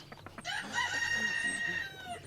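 A farm rooster crows once, a loud, drawn-out harmonic call lasting over a second, close by with faint clucking and background noise before and after.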